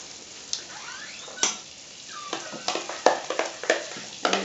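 Margarine heats in an aebleskiver pan with a soft, low sizzle, broken by sharp clicks and taps of a utensil against the pan that come faster toward the end, close and with no talk.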